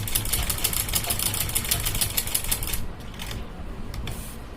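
A sewing machine runs steadily, stitching a firm seam along the edge of a kurti; the dense whirring rattle is loud and continuous, then eases to a quieter run near the end.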